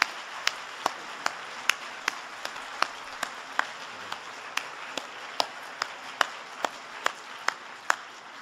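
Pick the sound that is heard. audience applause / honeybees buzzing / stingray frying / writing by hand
audience applause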